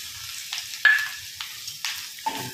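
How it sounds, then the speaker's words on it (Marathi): Peanuts, green chilies and minced garlic dropped into hot oil in a kadhai, a soft frying hiss punctuated by several sharp spatula taps and scrapes in an otherwise quiet kitchen. "तर कढईमध्ये तेल गरम करण्यासाठी ठेवलेलं आहे. तर त्यामध्ये मग अशी शेंगदाणे, मिरची आणि जे लसूण आपण बारीक केलं होतं तर ते टाकून घेऊयात."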